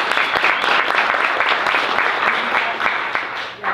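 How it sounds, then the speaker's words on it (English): Warm audience applause at a chapbook poetry reading in a small bookstore, a quick burst of clapping from a modest crowd lasting a few seconds before tapering off. "everyone should applaud her"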